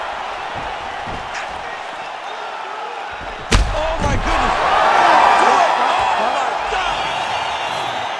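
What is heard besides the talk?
crowd cheering in UFC 5 video game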